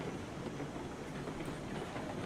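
A train in the video game RailRoads Online rolls along the rails with a steady low rumble and a faint clickety-clack, and no one talks.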